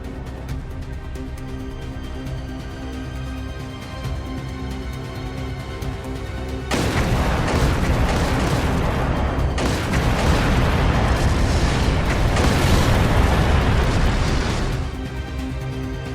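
Low rumbling background in The Legend of Heroes: Trails Through video game gives way to heavy, sustained gunfire and booming explosions of fighting in a city, roaring loudly for several seconds before easing off.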